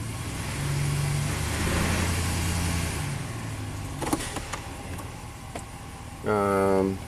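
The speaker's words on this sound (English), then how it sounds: "Let's rev it up a little bit" A Ram's HEMI engine with a P0016 fault and low power idles under a talking voice, then revs up sharply and loudly near the end.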